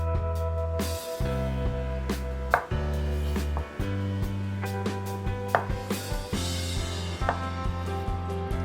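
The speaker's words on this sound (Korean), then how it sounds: "무는 1cm 길이로 정사각형 모양으로 잘라준다" Knife cutting radish into 1 cm cubes on a cutting board, with a run of sharp, close chopping knocks in an uneven rhythm, some quick bursts, and no talking.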